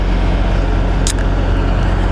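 A car's engine idles steadily, left running while pulled over on a Nevada desert road before being towed in neutral, a loud, even low rumble with one brief sharp hiss partway through.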